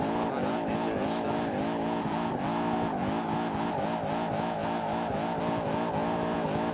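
A car engine revs hard and holds a high, wavering pitch in the BeamNG Drive driving game, loud and continuous for several seconds, with faint voice sounds mixed underneath.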